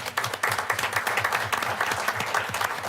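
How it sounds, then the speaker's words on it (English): Sustained applause from a sizable crowd at a board meeting, dense overlapping claps filling the room at a steady, even loudness. "So just round of applause for his vision."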